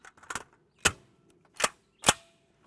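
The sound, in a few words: gunshot, Black Dragon Fang round from longer barrel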